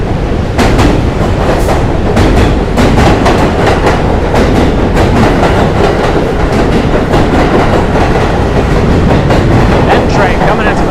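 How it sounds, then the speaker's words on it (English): On a New York commute from Brooklyn to Manhattan, a train rumbles past on the rails, very loud and close, with rhythmic clickety-clack of the wheels running steadily throughout. "I hear a train coming."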